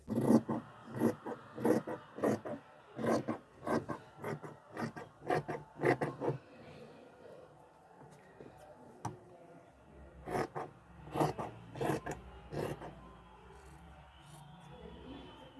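Scissors cut fabric for the front quarter of a Moroccan djellaba in a steady run of close, rasping snips. The cuts pause midway and then resume, with no talk.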